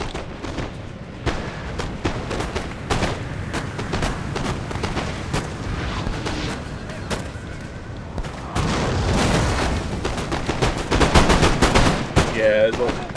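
Musket volleys and scattered gunfire from a Napoleon: Total War online battle, with dense crackling shots that ripple along for the whole stretch and build into heavier, louder bursts toward the end; nobody speaks over it.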